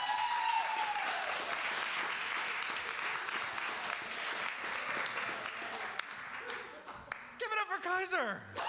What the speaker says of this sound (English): I want you to clap for Kevin Ham.